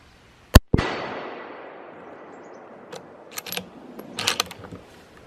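A single loud Mossberg ATR .308 bolt-action rifle shot fired through a muzzle brake, a sharp close crack followed by a long decaying boom, then scattered faint metallic clicks and handling rattles.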